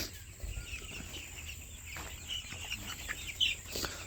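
Chicks resting in a poultry shed on a hot day, with soft intermittent clucking and chirping over a low steady hum of shed fans, fairly faint and without talk.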